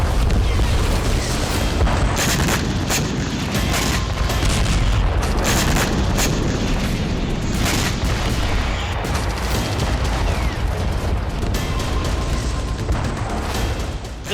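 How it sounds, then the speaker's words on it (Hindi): Israeli air strikes in the Gaza Strip, heard as a dense, continuous roar with repeated heavy booms and rumbling blasts that run on loud for the whole stretch. "गाजा पट्टी में इजरायली सेना का आसमानी प्रहार जारी है, जिसके चलते गाजा में भीषण तबाही मची हुई है।"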